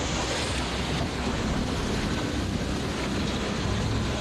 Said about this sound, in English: You're not watching them waves like that one